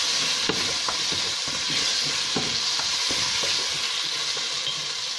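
Food sizzles steadily in a hot pan while a utensil scrapes and stirs it in irregular strokes, close by with no talking, as soy sauce is mixed into a soup.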